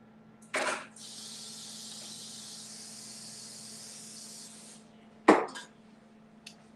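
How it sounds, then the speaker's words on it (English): Two short sharp hisses from a spray can nozzle, with a longer steady aerosol hiss between them, close and fairly loud with no talking. "So I'm just gonna spray both sides over my sink."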